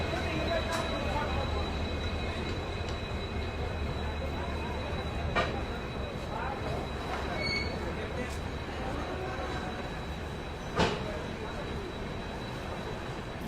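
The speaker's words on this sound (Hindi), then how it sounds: "ओहो, डीजल लोकोमोटिव का साउंड।" A diesel locomotive idles at Asansol station with a steady, deep engine rumble and a low hum that fill the whole stretch, while faint background voices and occasional brief clanks sit under the noise.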